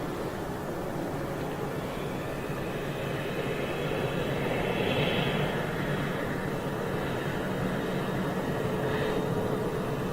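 An Airbus A350 jet lands on the southern runway, its engines making a steady, broad roar that holds at a fairly even level for about ten seconds and swells slightly midway.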